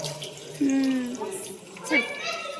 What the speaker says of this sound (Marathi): ते आलं पाणी जोरात पंप मारायला लागतोय